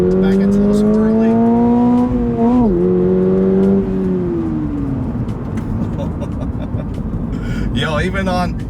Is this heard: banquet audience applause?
no